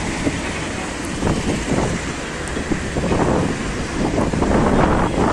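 Sea breeze on a crowded Alexandria beach, a steady, loud rush of wind buffeting the microphone with low rumbling gusts throughout and no clear voices.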